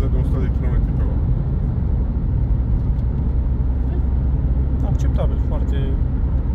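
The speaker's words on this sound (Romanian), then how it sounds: "asta e nivelul de zgomot la viteză de 100 de km pe oră" Steady broadband road and wind noise fills the cabin of a Volkswagen Polo Cross cruising at 100 km/h, an even, continuous roar with no breaks.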